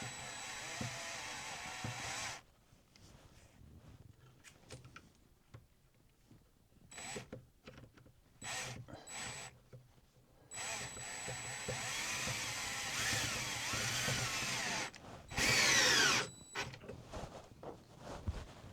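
A power drill with a chuck adapter screws a heart-shaped metal lamp wire hook into a wall, giving bursts of whirring and grinding separated by quiet pauses, with one louder, sharper run near the end.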